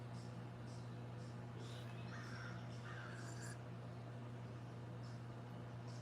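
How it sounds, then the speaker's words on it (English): Crows caw in a backyard, a few short harsh calls in quick clusters, faint and distant over a steady low hum. "Listening to the crows."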